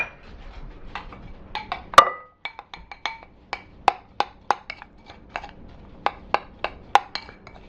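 A utensil taps and scrapes around a bowl while Parmesan, breadcrumbs and butter are mixed into a crumble topping, giving a string of sharp, close clinks in an uneven rhythm with one louder knock early on.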